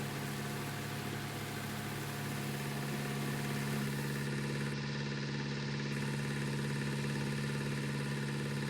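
Tractor engine in Farming Simulator 19 held steady on the hand throttle while mowing maize for silage, a constant loud mid-to-low drone with even vibration and no pauses.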